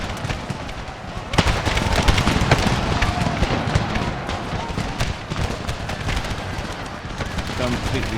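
Dense musket volley fire and crackling gunfire from a Civil War mod of Empire: Total War fills the scene, a loud continuous barrage of overlapping shots with a voice talking over it.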